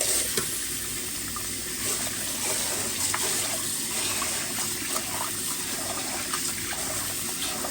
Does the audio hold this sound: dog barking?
no